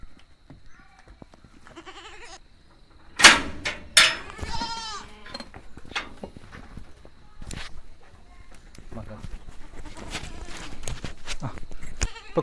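Goats bleat in a shed on a goat farm with an iron frame and a raised wooden plank floor. Several loud, close bleats come in the first seconds, then softer animal sounds and shuffling continue while someone talks.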